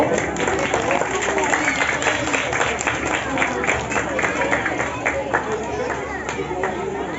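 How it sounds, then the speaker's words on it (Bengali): An audience at an Independence Day felicitation programme of a club in Matiari claps in a dense burst, with crowd chatter and voices mixed in throughout. "তালি চাইব"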